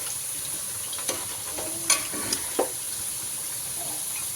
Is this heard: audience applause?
no